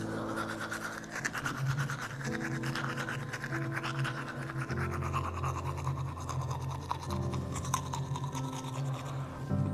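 A toothbrush scrubs along the gum line in continuous close brushing, with a rapid bristly back-and-forth rasping at steady loudness the whole way through and no speech.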